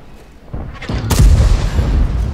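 Tank cannon fire in a tank video game: a heavy, booming shot that builds from a low rumble into a loud blast, then a rolling, fading tail.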